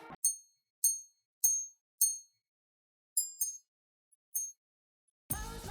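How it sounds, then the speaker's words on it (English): Patek Philippe 5303R minute repeater wristwatch chiming, a series of small bright metallic gong strikes, first four evenly spaced, then quicker double notes, each decaying into silence, close and delicate, followed by a burst of noise at the end. "It is a minute repeater, which means that when you click the button on the side, it chimes the hours, such as like this."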